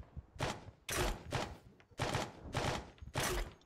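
Gunfire in the ARMA 3 military game rattles out in rapid, sharp volleys of about half a dozen bursts, sounding moderately near with short gaps between them.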